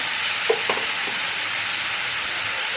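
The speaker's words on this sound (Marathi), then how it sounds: "आणि आता चांगलंच आहे ना आपल्याला परतून घ्यायचं सगळा मसाला" Masala with coriander and cumin sautéed in a pan, a steady close hiss of frying with a few soft stirring taps early on, no talk.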